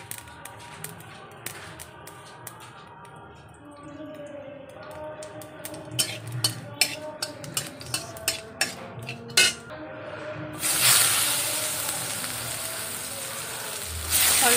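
Dried red chilli and cumin crackling in hot oil in a home kitchen: scattered sharp pops and snaps that grow denser, then a loud burst of sizzling as more oil goes in, with someone talking quietly underneath.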